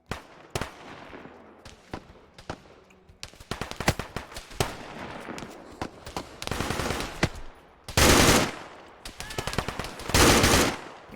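Light machine gun fire in the Arma 3 military shooter, with scattered single shots giving way to dense, sustained automatic bursts, several long loud volleys near the end; no talking.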